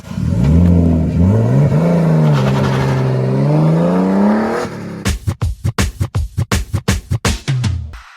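A Nissan R32 Skyline street car engine revving hard, first a long rising and falling rev held for several seconds, then a rapid series of sharp, choppy throttle blips, all loud and close.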